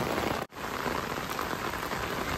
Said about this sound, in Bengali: ক্যামেরা ঠিক ধরতে পারছি না, প্রচুর বৃষ্টি হচ্ছে বলে।